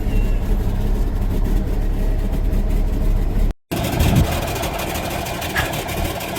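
Vehicle engine idling with an exhaust leak where the pipe has broken off the turbo, a loud, rough, steady low rumble with a brief cut partway through before the idle resumes.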